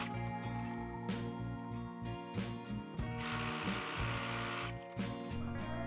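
A sewing machine topstitches the folded edge of a denim jacket, a close, steady mechanical whir with rapid needle rhythm and short pauses and restarts, heard alone.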